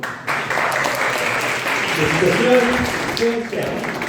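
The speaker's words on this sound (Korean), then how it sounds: "네, 박수." Audience applause at a birthday talk concert, a loud, close burst of steady clapping from a seated crowd, with some voices and murmurs mixed in as it carries on.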